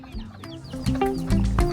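Chickens cluck at Kê Gà lighthouse in Phan Thiết, a run of quick, close clucks and squawks over steady background music.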